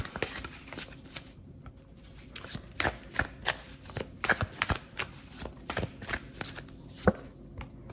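Tarot cards are shuffled by hand in a quiet room, giving repeated soft riffling bursts and crisp card slaps at an uneven rhythm, close up with no talking.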